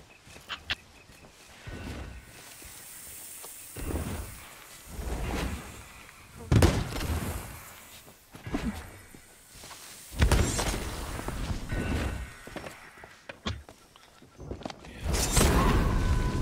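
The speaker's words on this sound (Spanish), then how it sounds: "un fantasma me ha pegado un cañonazo" Cannon shot strikes a player's pirate in the video game Sea of Thieves, a few heavy booming impacts and crashes amid game noise, with someone talking intermittently.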